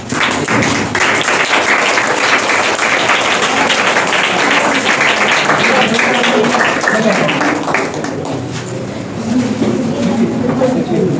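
Applause at a retirement ceremony in India, a sustained crowd of clapping hands that fades briefly near the end, with voices talking over it.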